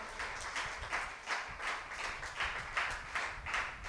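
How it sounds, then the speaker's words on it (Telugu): A congregation at Holy Mass claps together in a steady, rhythmic beat, roughly two claps per second, with a full, roomy sound and no speech. "దేవుని యొక్క ప్రేమ ఆదరణలను అనుభవించిన వారు గట్టిగా చప్పట్లు కొడదామా?"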